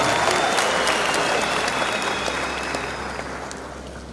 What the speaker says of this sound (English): Another round of applause for Ruben Neshamba.